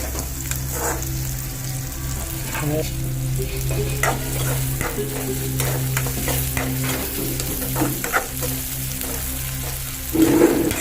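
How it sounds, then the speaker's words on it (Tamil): Small onions frying in a pan, a steady close sizzle with scattered spatula scrapes and stirring clatter, plus a low hum beneath and a louder burst of sizzle near the end. "சின்ன வெங்காயம் போட்டுக்கிறேங்க."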